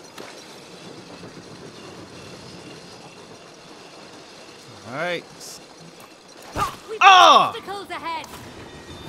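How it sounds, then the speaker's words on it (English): A mine cart train rumbles past on a track in the video game It Takes Two, with a rising whoosh followed by loud, sweeping, screeching bursts near the end, under and between players' talk. "Oh, I got hit by a train. They got a train here? Oh, mine cart."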